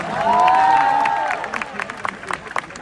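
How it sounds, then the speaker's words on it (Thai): Audience applause and cheering break out at a Miss Universe press conference, a swelling wash of clapping and crowd noise with a whistle-like tone at first, then settling into scattered claps and chatter. "ขอเสียงปรบมือดังๆ ให้กับคนรวยทุก ๆ คน"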